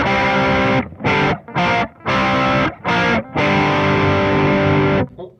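Distorted electric guitar through a Marshall Blues Breaker pedal with every knob at the middle, giving a muddy, boomy low end: loud strummed chords ring out in several bursts with short breaks between them, and no voices.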